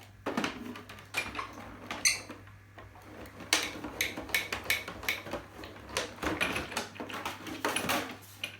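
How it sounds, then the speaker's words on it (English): A die cutting machine presses two layers of cardstock for a card, making close, repeated ticking and clicking mechanical crunches in irregular bursts with no talking. "I'm going to send it through my die cutting machine."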